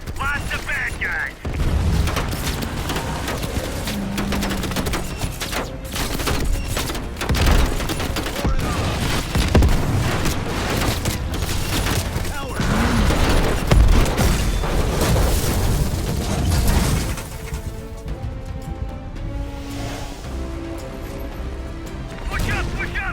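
Gunfire and explosions fill a Black Ops Cold War battle: rapid bursts of automatic fire, heavy booms and crashing impacts, loud and continuous, thinning toward the end, with voices shouting in the mix.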